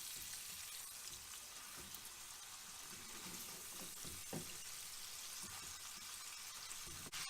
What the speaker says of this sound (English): Let's add our brandy. And let that cook through for a few seconds.